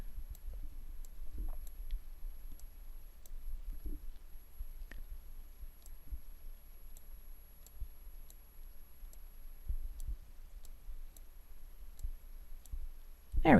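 A computer mouse clicks sharply in a quiet room during image editing, with light regular single and double clicks spread across the span and faint low background noise.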